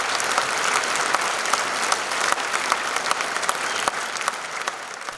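Audience in a concert hall applauding after a student's solo concert, with dense steady clapping from many hands throughout.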